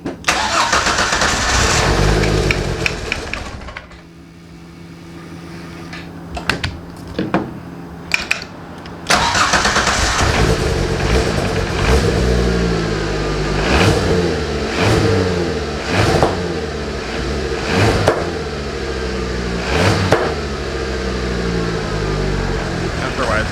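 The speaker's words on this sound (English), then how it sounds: "Misfiring so bad off the intake." Exocet kit car engine running rough and misfiring, with uneven loud pops and stumbles over a revving idle, cutting out briefly before catching again and chugging on up close; people talk over it.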